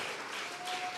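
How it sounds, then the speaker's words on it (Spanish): A church congregation claps during a Sunday service, a dense, sustained burst of applause filling the room evenly with no speech on top. "Vamos a regalarle otra ofrenda de palmas al Dios de la gloria."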